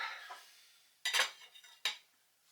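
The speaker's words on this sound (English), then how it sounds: "So I'll just get this carved up, and then we'll be good to go." Knife carving a British hog roast pork joint on a board, with a couple of distinct scraping, clattering cuts and soft contact sounds between them, close and fairly quiet with no talking.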